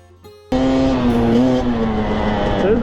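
A Husqvarna TE250i dirt bike starts off on a single-track trail, its engine snapping into a loud, sustained close-up drone that wavers in pitch as it rides on.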